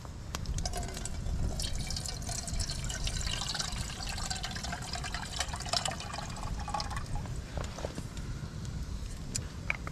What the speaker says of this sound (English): So I've just got my little kettle, and I'll just pour some of this water in